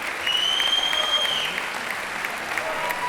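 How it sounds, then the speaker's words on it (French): Audience at a dance gala applauding the student dancers, a steady wash of hand claps filling the room with a faint whistle-like tone over it, continuous and fairly loud throughout. "Vous pouvez les applaudir parce qu'elles ont beaucoup travaillé cette année."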